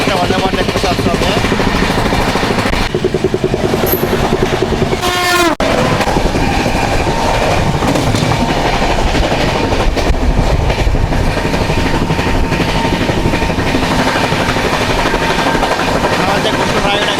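A Vande Bharat Express rushing past a moving train near Guntur with a loud whooshing roar, a brief horn blast, and rail clatter all the way through.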